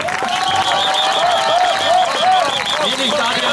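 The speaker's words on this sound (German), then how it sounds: "Begrüßung mit Applaus" Audience applause with some cheering welcomes a triathlete at the 2012 Ladies Triathlon in Breitenbrunn, a steady, dense clapping that holds loud throughout, with raised voices mixed in.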